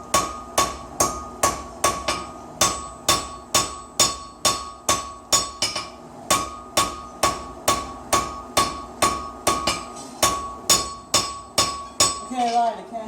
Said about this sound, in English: when my hammer blows are coming